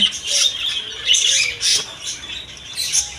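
Mixed white, black and classic-coloured king quail at a bird shop give short squawking chirps in quick, repeated bursts, close and fairly loud.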